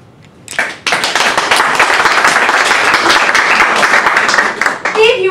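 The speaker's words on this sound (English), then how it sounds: "If you would like the first candidate, candidate number 1, to go forward for the vacancy of Sarah, please applaud now." After a short quiet moment, an audience voting on a candidate breaks into loud, dense clapping that holds steady for several seconds, then dips, and a voice briefly cuts in at the end.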